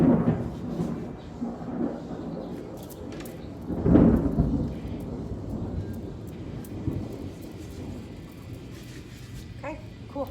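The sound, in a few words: thunder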